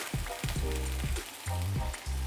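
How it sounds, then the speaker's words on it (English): Pork slices for Japanese ginger pork sizzle steadily in a hot pan, a continuous loud crackle with a few brief scraping touches and no talking. "nice sizzle, that's a good sign"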